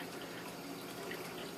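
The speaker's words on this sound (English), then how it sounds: "So if you can hear water in the background," Steady broadband rush of water running from city water mains being flushed, a continuous hiss with no voices, fairly faint and even throughout.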